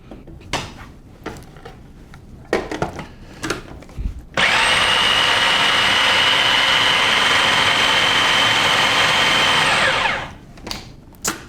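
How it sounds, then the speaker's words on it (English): A countertop blender purees tofu with nuts, herbs and spices, a loud, steady whirring roar lasting about six seconds, framed by clattering and knocks from handling the jar before and after. "make sure that all the tofu gets chopped up and blended in with the nuts and the herbs and spices"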